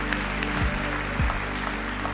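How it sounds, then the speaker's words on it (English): Church congregation clapping in praise during a service, a lively continuous wash of hands clapping together, moderately loud and close, with low organ or keyboard tones sliding underneath. "Somebody give a clap offering of praise right now to our God"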